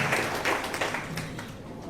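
Audience at a direct selling seminar breaks into applause, a brief patter of clapping from a crowd in a hall, moderately loud and steady.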